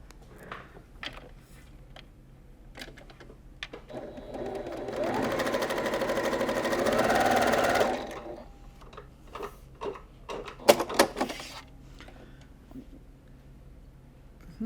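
A foot-pedal sewing machine stitches quilt pieces in a quiet room, one steady whirring run of about three seconds framed by soft clicks and handling sounds.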